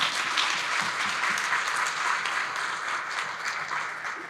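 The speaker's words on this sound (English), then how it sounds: "yes, clap." Steady audience applause fills the room after a panel discussion at a peace conference, dense even clapping from many hands held at a constant level for the whole stretch with no voices over it.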